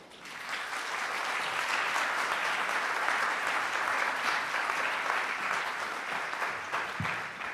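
An audience applauds to welcome a speaker at a lecture on Christian critical theory, a full, sustained round of clapping that swells quickly and holds steady for several seconds.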